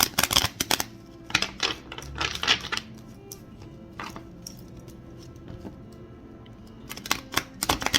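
Bursts of crisp tarot card riffling and flicking come in quick clusters near the start and again at the end, with quieter handling between.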